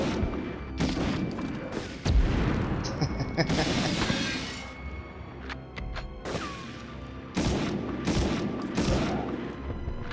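M1 Garand rifle shots and grenade blasts ring out in the Medal of Honor video game, a quick series of sharp, loud cracks and bursts with short gaps between them, close up.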